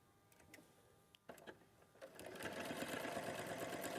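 A sewing machine stitches fabric pieces together. A few soft clicks and taps come first, then the machine starts and runs in a steady, close, fast mechanical whirr with no talk.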